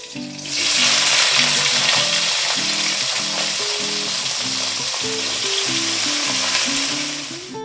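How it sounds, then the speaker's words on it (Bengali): Vegetables hitting hot tempered oil with green chillies for a cauliflower-stalk chorchori, a loud continuous sizzle close by, with a low steady hum underneath and no talking. "এবারে এর মধ্যে আমি সবজিগুলো সব এটাই দিয়ে দেবো।"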